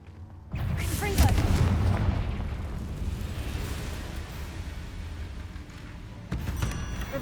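A Confringo blasting spell goes off in Hogwarts Legacy, a sudden boom that swells and then decays into a long, rumbling roar. A second burst follows near the end.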